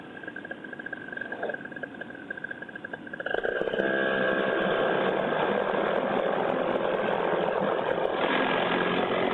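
A paramotor engine runs steadily in flight, a loud, constant droning buzz that swells and thickens after a few seconds and then holds a continuous roar.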